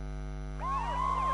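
A police siren from the Ace Attorney game rises in and wails over a steady electrical hum, starting midway and growing louder toward the end.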